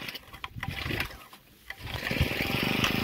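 A backpack brush cutter's small two-stroke engine is pull-started and catches, settling into a steady, fairly loud idle drone after some rustling and handling noise.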